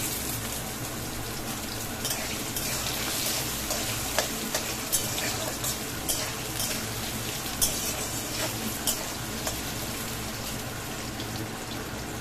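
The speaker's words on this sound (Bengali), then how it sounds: "আলুটা খুব ভালো করে ভাজতে হবে।" Potatoes frying with banana flower in a pan, a steady broadband sizzle with scattered sharp crackles and pops throughout, close and loud, with no talking.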